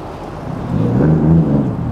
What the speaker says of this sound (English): Another like stock NSX coming in.